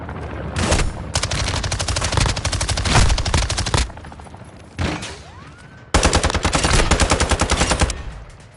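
Gunfire in the video game Call of Duty: loud rapid automatic bursts, close and sharp, in long strings separated by short pauses, with one burst cutting off and then a fresh heavy stream starting near the end.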